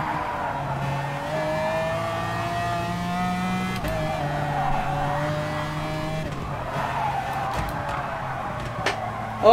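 Two-stroke bike engine in GT Sport revving with harmonic whine, brapping on downshifts as pitch drops in steps, loud and continuous with tyre squeal mixed in.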